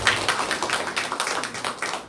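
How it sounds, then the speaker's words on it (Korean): A church congregation at a Korean Sunday service claps together in a brisk, steady patter of many hands, moderately loud and continuous for about two seconds, with no talking. "박수 한번 쳐드릴게요"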